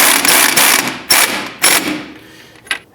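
A hand ratchet clicks in quick bursts, about four pulls close up, snugging a control arm bolt on a 2005-10 Jeep Grand Cherokee during CV axle replacement, with no talk.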